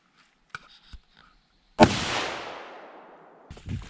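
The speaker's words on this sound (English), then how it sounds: "We'll put another bullet down range." A single sharp rifle shot rings out while sighting in at a range, loud and close, its blast tailing off into a long rolling echo, with faint handling clicks before and after.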